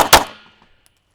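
A single sharp, loud pistol shot near the start of a speed-reload shooting drill, followed by a quick decay and a few faint clicks.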